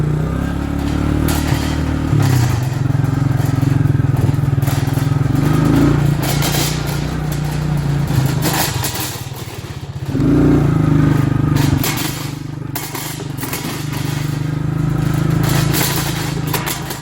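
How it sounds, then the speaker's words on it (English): Motorbike engine runs steadily and loud throughout a ride with a dog aboard, droning at a constant pitch with brief dips and swells as the throttle eases and picks back up. "He loves the motorbike"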